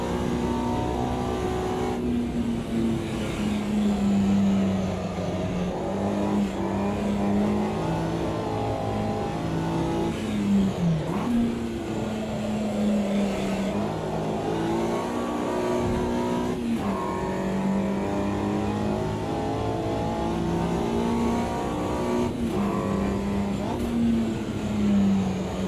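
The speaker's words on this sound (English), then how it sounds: "Automobilista 2, I do believe, has done a great job on the sounds of the cars" Mini Cooper race cars lap Brands Hatch in the racing game Automobilista 2, a near, steady engine drone rising and falling with each gear change and throttle lift.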